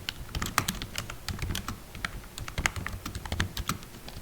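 Rapid, steady keystrokes on an Ant Value FKBRI01 membrane keyboard, close and clear, with soft, muted clacks in an irregular typing rhythm and no talking.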